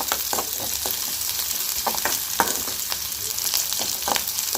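Green chillies and curry leaves sauté in hot oil in a pan, giving a steady crackling sizzle with sharp pops and light stirring scrapes, close up with no talking.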